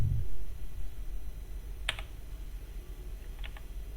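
A few keystrokes tapped on a computer keyboard, sparse and close, with a quick cluster of clicks near the end over a faint background hum and no speech.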